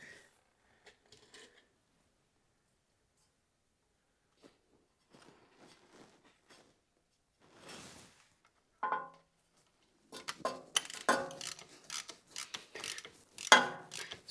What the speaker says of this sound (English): torque the drain plug and the fill plug up to 30 Newton meters